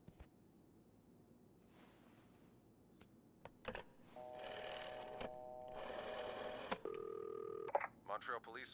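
A telephone is dialed in a quiet room, with a few faint clicks, then a run of steady tones and an electronic beep pattern heard moderately close.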